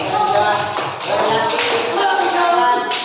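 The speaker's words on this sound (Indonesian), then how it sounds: "Tepuk tangan." A classroom of students claps hands together in a short, lively burst of roughly three seconds, scattered taps and claps overlapping with faint murmuring.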